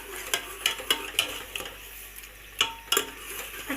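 Potato egg curry masala being stirred and fried in ghee, with repeated spoon scrapes and clinks against the pot over a soft, steady sizzle, close by and alone.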